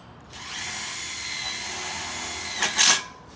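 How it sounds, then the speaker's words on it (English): A screw gun drives a Tex screw into a Colorbond steel fence panel, giving a steady close whine for a couple of seconds that ends in a sharp louder burst as the screw seats. "get your gun with a few Tex screws, and you just put one in on this side"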